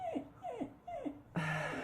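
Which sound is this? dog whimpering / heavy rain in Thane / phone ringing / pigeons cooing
dog whimpering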